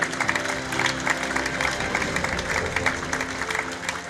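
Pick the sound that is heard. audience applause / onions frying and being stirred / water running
audience applause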